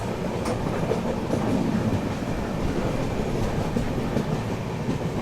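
An Indian Railways train hauled by twin diesel locomotives, including a WDP 4D, rolls along with a loud, steady rumble and a faint clickety-clack of wheels, with no voices.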